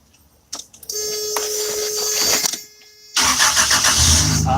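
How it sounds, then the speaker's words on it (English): A car engine cranks with a whirring starter, catches, and roars up loudly, then drops briefly before surging again, close by. "Lord Jesus, help our car start and help it be fixed."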